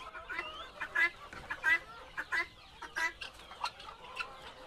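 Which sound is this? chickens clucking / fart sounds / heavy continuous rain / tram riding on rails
chickens clucking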